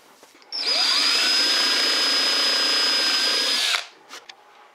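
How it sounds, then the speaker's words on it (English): A power drill bores a hole in wood for a birdhouse, whirring up to a steady high whine for about three seconds before spinning down, close and loud with faint handling noises around it. "So now I'm going to go ahead and drill a hole and put it in here."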